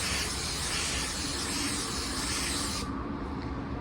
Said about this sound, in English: let's put a dry coat over these dirt spots after we sanded them down